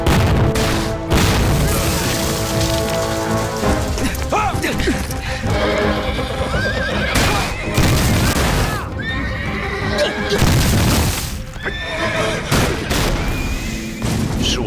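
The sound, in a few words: gunfire in a war film battle scene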